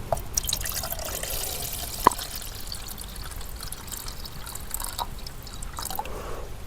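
Water is poured in a small, steady trickle with occasional drips during outdoor cooking on a nature hike, soft and close against quiet open-air ambience with no talking.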